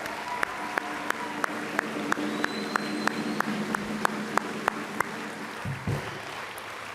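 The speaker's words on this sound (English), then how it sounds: "Would you join me in giving all of our recipients one last big round of applause?" Scattered applause for award recipients at a First Citizen Awards banquet, faint and thin, with a few distinct claps cutting through and the crowd fading out near the end.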